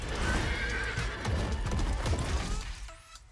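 Horse hooves clip-clop in Street Fighter 6, a close, steady galloping patter with a neighing whinny over it, fading out at the end.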